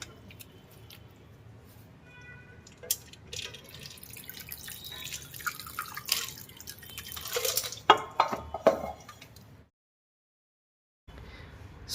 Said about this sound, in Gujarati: જે પાણી બરફનું અને જે પનીરનું પાણી છે એ બધું કાઢવું પડશે